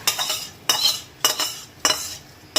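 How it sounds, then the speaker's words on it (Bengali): Moong dal being fried in a pan with a little oil, stirred with a utensil: four close, rhythmic scraping strokes against the pan with no talking. "এবার একটু ভালো করে ভেজে নেব।"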